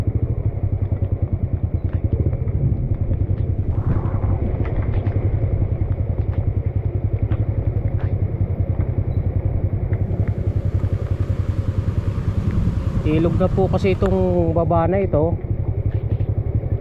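A large pumping station engine in Bulacan, Philippines runs steadily nearby with a loud, constant chugging drone while a person speaks over it.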